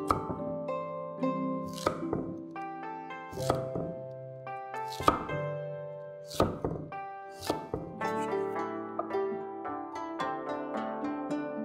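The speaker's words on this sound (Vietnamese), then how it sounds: "cắt miếng dày khoảng 1 phân." A knife cuts peeled taro into thick slices about a centimetre wide, landing as slow, separate thunks on a board every second or two over steady background music.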